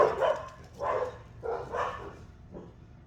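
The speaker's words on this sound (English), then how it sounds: "Dogs." Several dog barks in an irregular series, four or five bursts spread over a few seconds, moderately near and alone without any talking.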